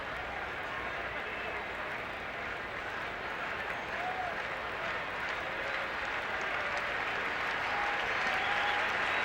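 A baseball stadium crowd at a 2001 MLB playoff game in St. Louis applauds steadily, a dense, even roar of clapping from a large crowd heard from a distance, with faint tonal sounds over it.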